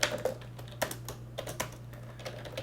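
Irregular keyboard typing on a computer during a live coding session for a Minecraft plugin, close and fairly quiet, with scattered key clicks and short bursts over a steady low hum, no speech.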